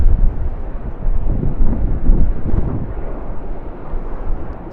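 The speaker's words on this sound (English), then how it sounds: "It's finally time for our Capital Airlines departure." A Capital Airlines Airbus A330 departs Sydney Airport, a loud, deep rumbling jet roar that swells and rolls continuously, buffeted by wind against the microphone, with no talking.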